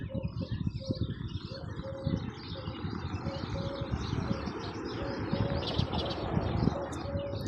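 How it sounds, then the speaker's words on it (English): Lots of birds chirp and coo together in a busy outdoor chorus at a lake with flamingos and swans, over a constant rushing background, calls overlapping continuously. "The sound of the birds."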